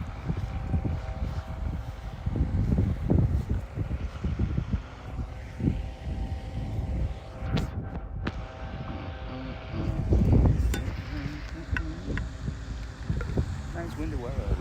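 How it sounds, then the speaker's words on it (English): Gusty wind outdoors beside an artificial lake, buffeting the microphone with low rumbling blasts that swell and fade throughout, loud and close, with occasional louder gusts. "Windy weather at least."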